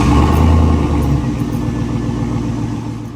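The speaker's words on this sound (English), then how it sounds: "Got a 6-liter swap truck here. Just got duals to a Y, no muffler, stock cats." A truck with a 6-liter V8 swap, dual exhaust pipes joined into a Y, no muffler and stock catalytic converters, idles close by with a loud, deep, steady rumble that eases slightly after the first second.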